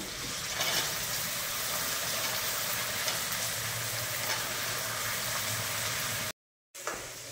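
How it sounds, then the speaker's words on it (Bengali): Chopped onions frying in hot oil, a steady close sizzle with stirring, running unbroken before a brief drop to silence near the end. "এবার দিয়ে দিলাম কুচনো পেঁয়াজ, কুচিয়ে রাখা সারগুলো।"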